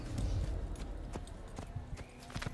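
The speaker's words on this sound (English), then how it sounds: "We can now go up to our horse and mount our horse." Horse hooves clip-clopping in an Assassin's Creed video game, a steady close run of hoofbeats with a faint whinny-like tone over low background rumble.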